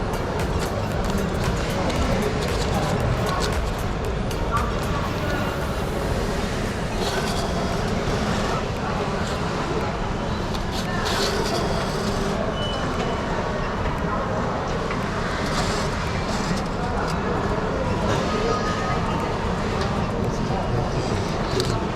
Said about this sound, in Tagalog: Dito tayo, Incheon International Airport Express Train.